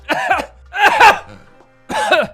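Three bursts of coughing, close to the microphone, with short pauses between them and a throaty, rasping edge.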